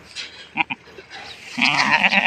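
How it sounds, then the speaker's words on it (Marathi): Newborn Beetal goat kids, large and heavy, bleat in short calls, two quick cries near the start and then a longer, louder run of bleating toward the end, heard close and without talk. "हे बघा बिठ्ठलचे पिल्ले आणि खूप छान वजनदार आणि खूप मोठाले पिल्ले झालेत"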